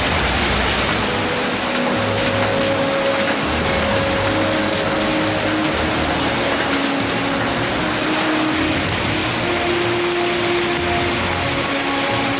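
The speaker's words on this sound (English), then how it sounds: "the winds reach 70 miles per hour and baseball-sized hail starts to fall" A violent storm with 70 mph winds and baseball-sized hail sounds as a dense, steady roar of hail and rain hammering surfaces, loud and unbroken throughout with no voices.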